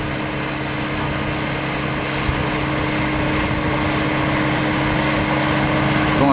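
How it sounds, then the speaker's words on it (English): A tractor engine runs steadily while pulling a rhizome and sprig root planter in a field, a continuous droning hum with a low harmonic buzz, close and unbroken, without talk. "Tractor."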